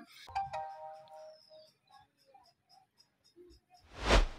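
A Jio Phone F320B plays a short electronic startup chime as it boots after a hard reset. Quiet scattered beeps follow, then a loud, brief burst of noise at the end.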